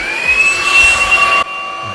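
A Ljuren P11 cordless vacuum cleaner runs with a steady, loud whine and airy hiss, a sustained motor tone for about a second and a half before cutting off abruptly to quieter background.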